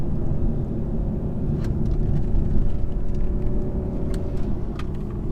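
A 2021 BMW 420i coupe's engine drones steadily from inside the cabin on a B road, a constant low rumble mixed with road and tyre noise and a few faint ticks, with no talk over it.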